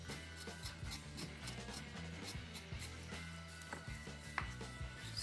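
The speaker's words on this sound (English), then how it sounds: "If you can scrape, just use the knife to cut it off like you're peeling yam." A knife scraping the skin from fresh turmeric root gives repeated short rasping strokes in a steady rhythm, close up, quiet and with no talk.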